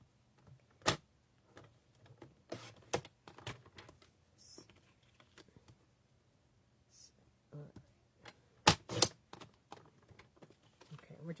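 Paper being cut for a Stampin' Up! fun fold card, with sharp, crisp snips and clicks coming in irregular bursts, close and fairly quiet over a low background hum.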